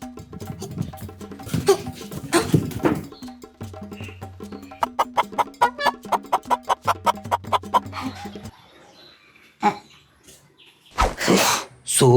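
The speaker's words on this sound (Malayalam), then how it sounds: "ആ വാസന്തി കോഴിയെ മുറ്റത്ത് വന്ന് നിൽക്കണം, പോയി നോക്കി" Hen clucking in a yard, a loud close run of rhythmic clucks and squawks with pauses between bursts, no talking.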